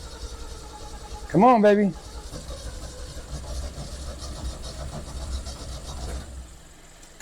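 An old Ford Falcon's engine grumbles low and steady as it is cranked and given throttle, someone briefly speaking over it near the start.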